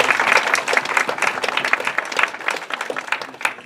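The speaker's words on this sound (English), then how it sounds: "Please give him a round of applause" A panel discussion audience applauds, a fairly loud, moderately sized round of clapping with distinct individual claps, uneven and fluttering, lasting a few seconds on its own.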